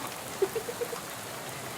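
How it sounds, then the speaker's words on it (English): Rain in the video game Shadows over Loathing makes a steady soft hiss, with a few small drip-like tones in a quick row early on and no voices. "Spend all that time cleaning your gun and the rain comes along and ruins it."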